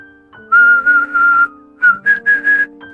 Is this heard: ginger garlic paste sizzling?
no